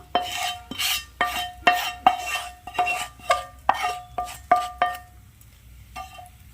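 A spoon repeatedly stirs and scrapes rice-flour batter for neyyappam, mixed with ghee and sesame seeds in a metal vessel. About a dozen sharp, rhythmic clinks and scrapes sound close and loud, then stop.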